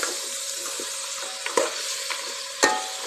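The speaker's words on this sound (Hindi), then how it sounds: "इसको भी अच्छे से हम इसमें भून लेंगे अच्छे से" Tomato puree frying in a pan for mutton korma, a soft, even sizzle running throughout, broken by a couple of sharp spoon knocks and scrapes against the pot, no talking.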